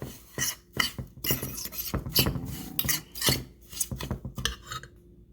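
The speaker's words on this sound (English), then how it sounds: "I'm just going to mix this up right in the pan." A utensil scrapes and stirs gritty cookie crumbs for a crust in a pan in uneven strokes, up close, with short pauses between them.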